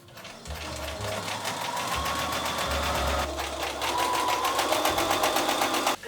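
A sewing machine sews the shoulder seam of a shirt made from an old tablecloth, a steady fast whirring run with slight changes in speed, close and continuous, with no talking.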